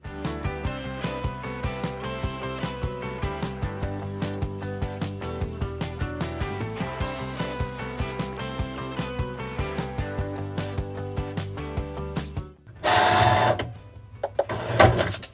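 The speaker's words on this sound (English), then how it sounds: "The machine will measure the mat and begin the print and cut scanning process once you press go." A Cricut cutting machine runs a cut on a magnetic sheet with a steady, rhythmic mechanical whirring and ticking. Near the end comes a short, louder burst of motor noise.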